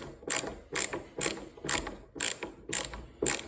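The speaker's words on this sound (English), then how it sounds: "So we'll just put our screwdriver in there. Set it to loosen." A Hart ratcheting screwdriver set to loosen a screw gives seven sharp, evenly spaced ratchet clicks, close and fairly quiet, about two per second with no voices.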